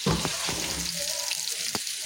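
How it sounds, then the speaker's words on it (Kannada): Fish sizzles in a frying pan, a soft steady crackle with a few sharper pops and spits, close by and with no voices. "ಫಿಶ್ ಫ್ರೈ ಕೂಡ ಆಗ್ತಾ ಇದೆ ನೋಡ್ಬೋದು"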